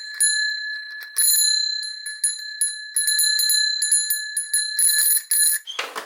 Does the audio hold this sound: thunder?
no